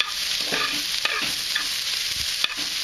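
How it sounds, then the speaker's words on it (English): Spinach wilting in a hot pan sizzles steadily while a utensil stirs and scrapes through it in quick, irregular strokes, close by with no voices. "Now you want to just basically wilt your spinach."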